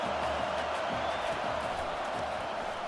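A roaring crowd in a College Football 25 game, Nebraska Cornhuskers against Colorado, holds a steady, dense wash of stadium noise with faint cheers rising in it and no pause throughout.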